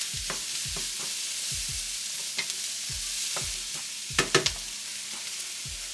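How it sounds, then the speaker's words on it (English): Green onions, peas and carrots being stirred through vegetable fried rice in a hot pan, with a steady sizzle underneath and a run of distinct scraping strokes from the spatula, close and clear, no talking. "And then give them a nice stir."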